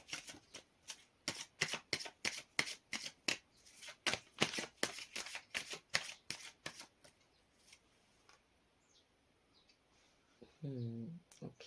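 Tarot cards are riffled and shuffled by hand in a quick run of crisp, fairly loud bursts, then a few soft card movements follow and the clip ends on a brief low burst of noise.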